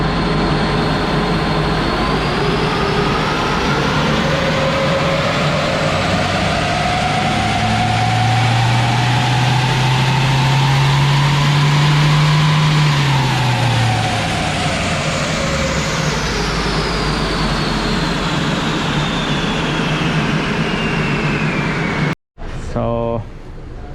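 Ford Everest 2.0 single turbo engine running on a dyno, a loud continuous drone that rises steadily in pitch through a long pull, peaks, then winds back down before cutting off abruptly near the end.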